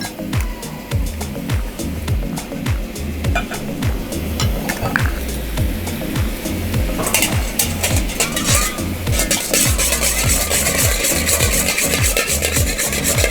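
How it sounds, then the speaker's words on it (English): A single beaten egg is whisked briskly in a bowl for a lemon sauce. Fast, rhythmic scraping strokes repeat steadily and close up, with no talking. "we beat one egg, we whisk it"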